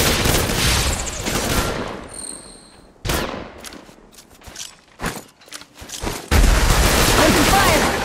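Gunfire in the mobile battle royale game Apex Legends Mobile: dense bursts of rapid shots, then a brief lull with scattered single cracks and footsteps before heavy fire resumes loud and close.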